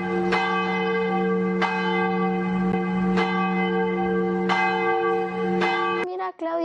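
A church bell tolls in steady, ringing strokes about every one and a half seconds, each strike loud and close with a long sustained hum between hits, ending abruptly in a short rustle.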